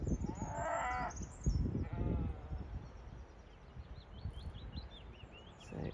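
A flock of sheep being driven along a lane by farmers, with overlapping bleats near and farther off, a rushing shuffle of hooves and movement underneath, and birds calling faintly in the background.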